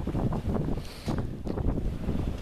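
Strong outdoor wind buffets the microphone, a loud continuous low rumble with gusty swells throughout the short stretch and no other clear sounds.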